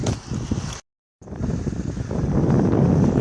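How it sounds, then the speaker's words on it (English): Strong wind gusting by a mountain lake in Waterville, Kerry, buffeting the microphone in a steady roar that cuts out briefly and then returns louder. "It's still very windy"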